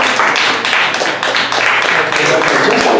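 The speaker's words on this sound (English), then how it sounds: "Let's give him a round of applause." A church congregation applauding their pastor before a sermon: a dense, steady round of clapping from many hands, sustained throughout and fairly close.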